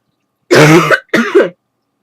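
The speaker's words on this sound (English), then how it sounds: "Excuse me for the cough." One person getting over a cold coughs twice, a harsh, close throat-clearing cough followed by a shorter second one, with silence around them.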